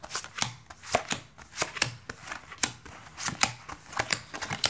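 A deck of 78 tarot cards is shuffled by hand close up, giving a rapid, irregular run of crisp riffles and slaps with brief pauses between bursts and no talking.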